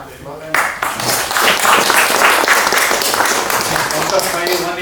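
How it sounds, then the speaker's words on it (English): An audience at a state talent awards ceremony bursts into applause for a digital media and VFX award winner, starting after a brief quiet moment and holding as a full, steady roar of clapping. "Let's give him a round of applause."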